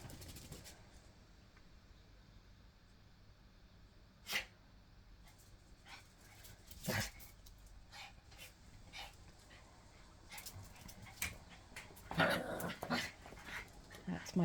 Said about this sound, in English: That's my dogs having some playtime.